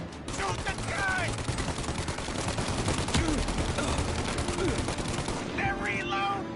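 Heavy, continuous gunfire rattles through a Mafia Definitive Edition shootout as several weapons fire overlapping rapid shots, and voices shout under it near the beginning and end.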